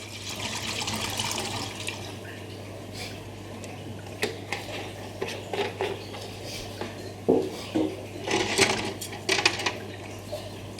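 Liquid poured into a tub filling with Shellite lighter fluid for cleaning clock movement parts, soft splashing and trickling with light clinks over a steady low hum.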